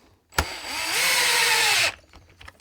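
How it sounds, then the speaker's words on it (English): A cordless electric drill on a low setting runs in one steady whir of about a second and a half, tightening a wheel on a large LOSI 5T RC truck, with a sharp click just before it starts. "Just want to remind people that are working with their drills to do this on a low setting."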